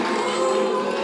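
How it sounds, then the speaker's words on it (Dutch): A theatre audience at a Dutch comedy show reacts with a brief, continuous roar of crowd noise that sounds like cheering, loud and sustained but very short. "Applaus voor Paul van Vliet."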